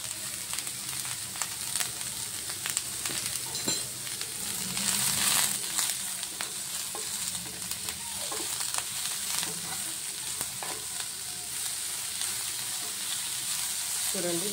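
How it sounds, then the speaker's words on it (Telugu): Egg fried rice with salt and capsicum sizzles in a pan, a steady close crackling fry with occasional stirring scrapes, continuous and even throughout. "చూడండి, బాగా ఫ్రై అవుతుంది"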